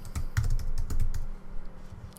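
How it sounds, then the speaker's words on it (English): Fingers tap out keywords on a computer keyboard, giving a quick, uneven run of soft, close clicks that thins out toward the end. "you can just literally just enter your keywords in here."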